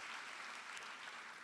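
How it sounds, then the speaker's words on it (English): An audience applauds a guest speaker at a business talk, producing dense, steady clapping from many hands that holds at an even level throughout. "So one big round of applause for Brijesh."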